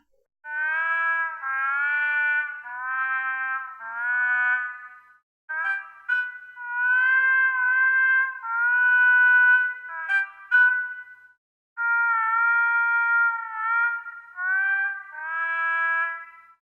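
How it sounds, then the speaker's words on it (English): A trumpet with a Harmon mute and stem, from a Kontakt sample library, plays a nasal, buzzy melody in short phrases with brief pauses, bright and close, no voices present. "And the Harmon with stem, which sounds a little different."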